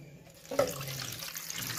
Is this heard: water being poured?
yes